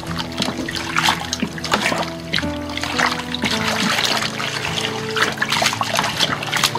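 Boiling water pours into a homebrew lager kit fermenter with a steady trickling, splashing flow, close and continuous, its pitch rising slightly as the vessel fills.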